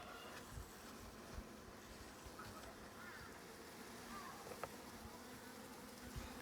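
Honeybees swarm and buzz continuously during installation of a new package, a dense, faint hum of many insects with occasional louder close passes.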